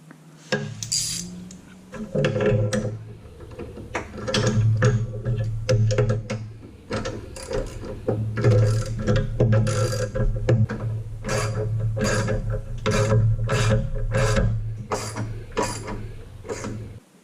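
A 3/8 ratchet with a 3-inch extension and a 1/2-inch deep well socket tightens bracket bolts while a manual shield is installed: repeated bursts of rapid metallic clicking, close and loud, with short pauses between strokes.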